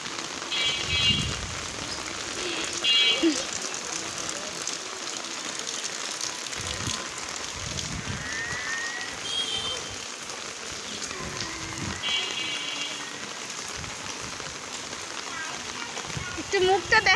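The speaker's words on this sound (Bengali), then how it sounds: "অনেক বৃষ্টি হচ্ছে আজকে" Heavy rain falls steadily throughout while people talk over it on the way to school, with a constant wet hiss and occasional louder bursts.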